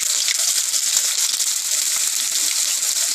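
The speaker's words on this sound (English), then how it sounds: "Here goes my onions." Onions hit hot oil with mustard seeds for leftover idli masala, giving a loud, continuous, close sizzling hiss with a crackly texture and no pauses.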